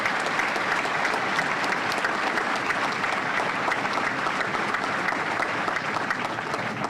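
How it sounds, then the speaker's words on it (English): A large graduation-ceremony audience applauds new Boston Fire Department firefighter recruits, with dense, steady clapping that stays loud and even throughout and no voices over it. "the new firefighters, a round of applause."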